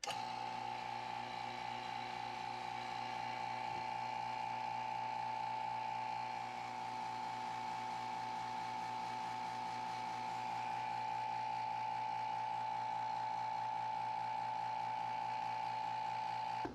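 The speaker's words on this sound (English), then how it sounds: "So let's go ahead and turn on the vacuum." A vacuum pump runs steadily on a chamber degassing wood under resin for a custom gunstock, giving a constant mechanical hum with a strong tonal whine and even motor drone throughout, close and unbroken.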